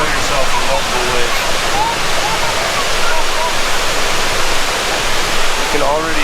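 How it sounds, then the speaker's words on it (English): A waterfall at Doi Inthanon National Park in Thailand roars as a steady, loud, broadband wash of falling water, unbroken throughout, with faint chirps from birds above it. "You can already feel the water from the waterfall here."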